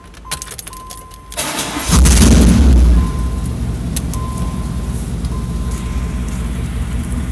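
A GMC Yukon with a loud aftermarket exhaust starts up in a mall parking deck, roaring hard for about a second before settling into a loud, steady rumble that echoes off the concrete.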